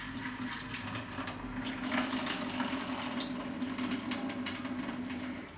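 Water poured off soaking green urad dal (split black gram with husks) in a kitchen, a steady continuous pour and splash running close by for several seconds with no talk.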